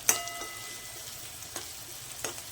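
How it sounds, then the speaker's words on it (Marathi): A tempering of spices and garlic sizzles steadily in hot oil for a traditional sandge vegetable dish, a soft continuous frying hiss broken by a few sharp pops and crackles. "छान बसली आहे बघा फोडणी"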